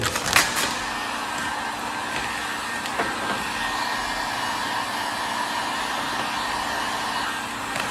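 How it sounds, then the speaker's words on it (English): A heat gun blows steadily at close range to reshape vinyl wrap on the hood of a Camaro SS, a constant airy whir after a few brief clicks at the start. "Now I'm gonna grab my heat gun and put that back to its original form."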